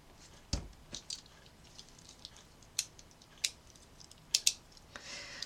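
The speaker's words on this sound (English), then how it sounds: "now I need to also cut a hole in my craft foam" Scissors snipping a hole in craft foam, a handful of quiet, separate crisp cuts and small rustles spaced irregularly at close range, no talking.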